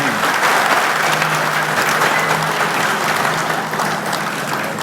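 Steady, dense applause from a large crowd fills the whole stretch, loud and continuous with no pauses.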